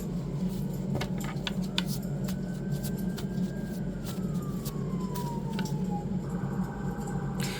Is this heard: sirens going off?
yes